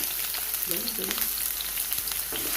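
Onions sizzle and crackle in a hot frying pan, a steady broadband hiss with a faint scrape or two, no voices.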